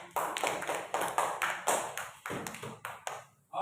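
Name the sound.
children clapping hands in a classroom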